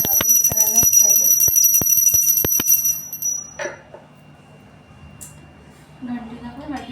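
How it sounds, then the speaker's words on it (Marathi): A small temple bell is rung rapidly during a home puja for Ashadhi Ekadashi, its bright ringing strikes lasting a few seconds before fading, with someone talking nearby. "घंटी वाजवायच्या, देवाजवळ घंटी"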